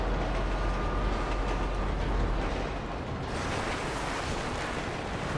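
A train rolls past in a video game as a loud, continuous rumble and roar that fills the clip, easing slightly as it moves on.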